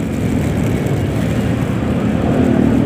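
Many motorcycles in traffic produce a dense, loud, continuous engine drone close by, steady throughout with no talking.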